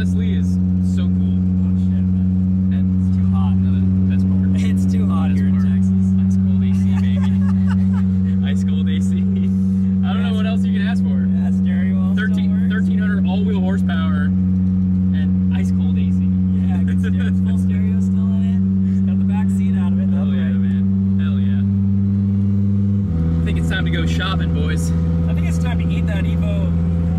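A 1300HP 2.5L AWD Audi RS3 sedan on E85 ethanol drones with a steady, loud engine hum heard from inside the cabin, shifting pitch partway through, while people talk over it.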